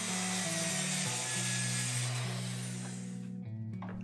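A hand saw cutting through a wooden stringer in a boat hull, a steady close rasping that runs continuously, then stops, over background music.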